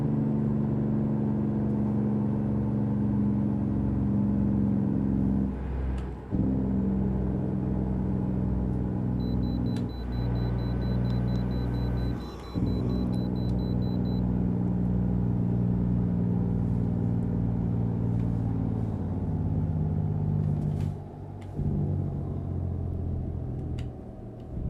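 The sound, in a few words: truck engine brake in video game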